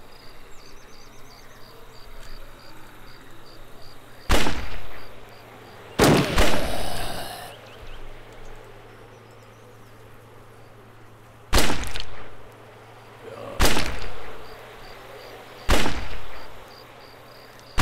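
Pistol gunshots in the video game March of the Living: five loud, sharp cracks fired at irregular intervals over a faint background of chirping insect ambience.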